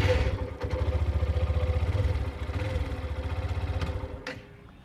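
A Hero Xtreme 125R motorcycle engine idles close by with a steady, rapid thumping pulse, then cuts out abruptly near the end, leaving near silence.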